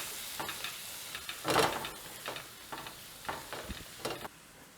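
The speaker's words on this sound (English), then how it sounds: "Just add that in and give it a big stir." Yellow summer squash in a pan with fresh lemon juice gets stirred off the heat, a soft background hiss with several distinct scraping strokes of a spoon, quiet and close.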